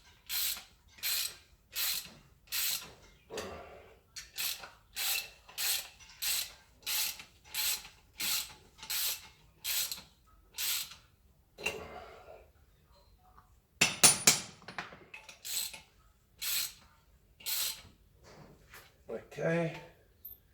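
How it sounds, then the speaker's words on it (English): A 19mm socket wrench ratchets on an anchor bolt during anchor point installation, a long run of regular close clicking strokes about once every half second with a few brief pauses and a burst of heavier metallic knocks midway. "we take a 19mm socket which fits over on top of"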